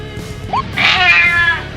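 Cats meowing, one short rising meow followed by a louder, drawn-out wavering meow, close and clear against a low background hum.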